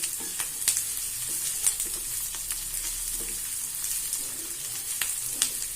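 Garlic sautéing in oil for a chutney: a continuous close sizzle with sharp crackles and spits scattered through, plus faint stirring scrapes, no one talking.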